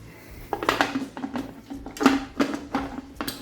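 Glass canning jars of windfall apple preserve clink and knock as they are set into a metal pot, several sharp clatters in irregular bursts, then the lid is put back on, close and alone without talk.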